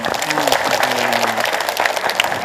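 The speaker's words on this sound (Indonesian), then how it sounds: "Hebat dan luar biasa. Tepuk tangan." An audience at a religious study gathering claps steadily in a brief, moderately loud patter while a voice carries on over the applause.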